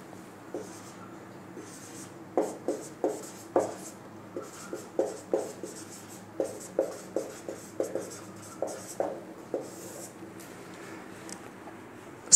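Chalk or marker writing on a classroom board comes as a steady series of short scratchy strokes, close and fairly quiet, with faint room noise and no talk over it.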